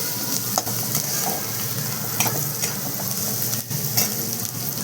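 Coriander fries in a pan while being stirred, a close, continuous sizzle broken by scraping strokes of the spoon, with no talking.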